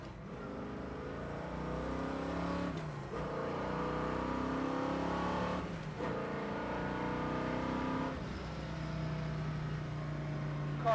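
A 1968 Chevrolet Camaro with a 454 V8 accelerates hard through several gears, its deep engine note climbing in pitch and dropping briefly at each shift, loud and close from inside the car.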